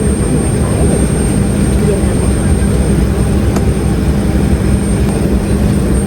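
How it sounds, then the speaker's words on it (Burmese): Steady, loud engine roar fills the cabin of an airliner, a constant broadband drone from start to end with no breaks. "ကဲကျွန်တော်တို့လေယာဉ်ပေါ်ရောက်ပါပြီ"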